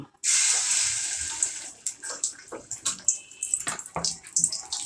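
An egg dropped into hot oil sets off a loud, sudden sizzle that fades into continuous spitting and crackling frying, close up.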